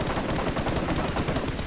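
Dense, continuous rapid gunfire in a battle royale video game, a loud rattling wall of shots with no clear gaps.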